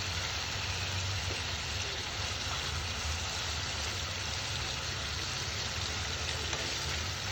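Fish sizzling as it fries in spiced oil in a pan, a steady dense hiss running evenly throughout, close and loud with no talk.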